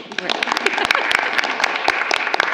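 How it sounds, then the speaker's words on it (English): An audience at a school committee meeting applauds students, a brisk, close patter of many hands clapping for a couple of seconds, with voices mixed in. "And we can clap for students."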